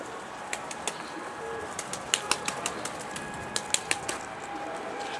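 Pigeons flutter and call in a flock, with sharp wing claps and short chirps scattered over a steady murmur of birds close by, and no talking.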